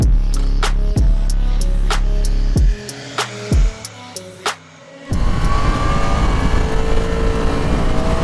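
A 2022 Yamaha MT-10 motorcycle engine pulls hard and loud up close, its pitch climbing in several surges with brief dips between shifts, then giving way to steady wind rush at speed.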